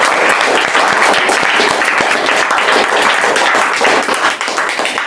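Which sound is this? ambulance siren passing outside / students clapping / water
students clapping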